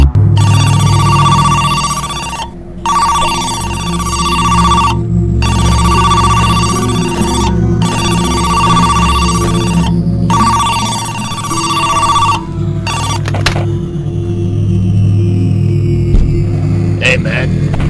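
A phone in the video game Who's Lila rings loudly in repeated electronic bursts with short gaps between, over a steady low hum. The ringing stops near the end.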